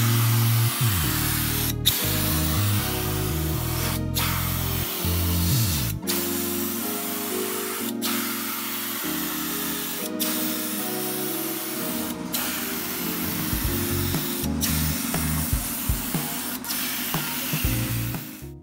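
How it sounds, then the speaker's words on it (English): Compressed air blasting at moderate pressure over a Hyundai Accent's A/C condenser, a loud continuous hiss with a few brief sharp breaks as the nozzle sweeps the fins. "if you have a compressed air, you can use it to dry off the condenser"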